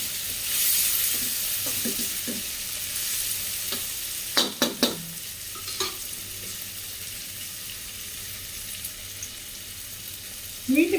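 Chopped tomatoes sizzle and hiss as they fry in a pan for aloo methi bhaji, a steady crackle broken by several sharp stirring clatters and scrapes near the middle and end.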